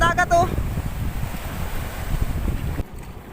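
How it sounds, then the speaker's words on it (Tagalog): Rough sea surges and churns with steady wind buffeting the microphone; a brief voice-like tone at the start, then the rumble of water continues. "Ang lakas ng dagat oh."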